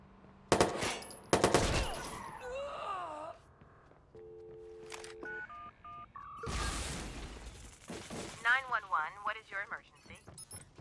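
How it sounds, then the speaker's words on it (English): Gunfire in the video game Watch Dogs 2, loud bursts of shots early on followed by game sound effects, electronic tones and wailing voices. "You're shooting!"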